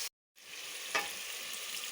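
Green chillies and potatoes frying in a pan, a steady, even sizzle of oil after a brief silent cut, fairly faint with one small clink near the middle.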